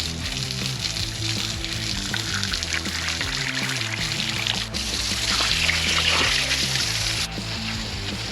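Water rushes steadily into a recreational pond during refilling after a cleanout, a continuous loud gushing splash with music running underneath.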